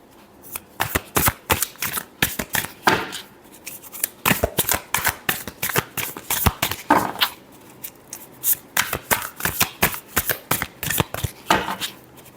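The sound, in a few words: shuffling tarot cards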